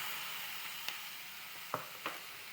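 Ripe sliced tomato sizzles softly in masala with fennel powder for an egg curry, a faint, steady fry broken by three brief clicks of a spoon stirring.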